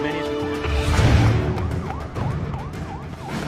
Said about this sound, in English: I heard sirens from all different directions.